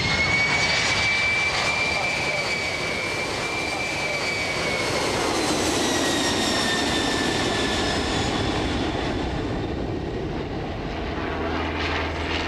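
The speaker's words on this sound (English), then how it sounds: "a Boeing 767 airliner" A Boeing 767 airliner flies an airshow display, its engine roar loud and steady throughout with a slowly shifting whine as it passes, over a continuous broadband rumble.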